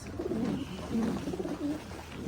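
A truckload of pigeons cooing in low, repeated throaty calls, close and steady, over a constant background hum.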